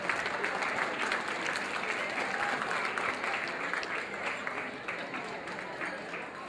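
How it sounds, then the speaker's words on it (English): Sustained audience applause fills a conference hall for the secretaries at a student leadership event, a dense, steady wash of many hands clapping at even loudness throughout, with faint crowd murmur beneath. "All the secretaries about to start clapping now."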